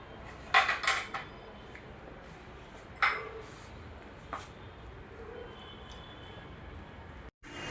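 Sprouted salad being tossed with jaggery sauce in a kitchen bowl, with a few close clinks and scrapes of spoon against dish in short clusters over a soft background hiss.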